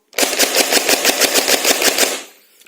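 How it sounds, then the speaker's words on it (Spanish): A Tokyo Marui PS90 High Cycle airsoft gun fires one rapid burst of about sixteen evenly spaced sharp shots over roughly two seconds, loud and close, then stops. "Así que se podría disparar bastante rápido con ella. Vamos a hacerlo."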